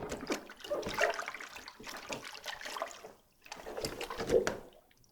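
A face shield is moved through rinse water, giving close sloshing and trickling splashes in two bursts with a short pause between.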